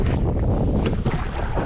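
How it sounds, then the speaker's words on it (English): Steady wind buffeting the microphone on a small bass boat out on the water, a constant low rumble and roar with faint water wash and no voices. "It's a little bit windy."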